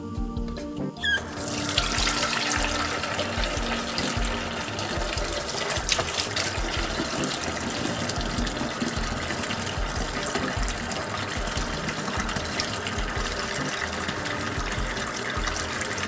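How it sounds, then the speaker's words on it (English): Water gushes steadily from a tap into a sink holding a Fry Daddy fryer being filled with soapy water for cleaning, a continuous close rushing splash that starts abruptly and runs on without talk. "Get it filled up with water."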